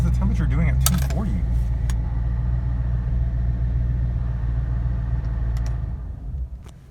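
A car engine idles steadily after a restart while overheating, a close low rumble under a brief clunk near the start, tapering off at the end.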